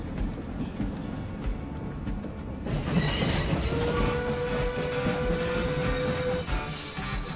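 Train carriage in the video game Evil West, a steady rumbling rail roll with clattering wheels that swells louder partway through and carries a drawn-out metallic squeal, with no talk.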